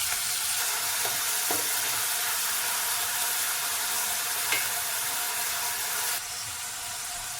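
Chopped onion, capsicum, green chillies, coriander and curry leaves sizzle in a hot pan, a steady frying hiss with a few soft clicks of stirring and a slight drop in level near the end.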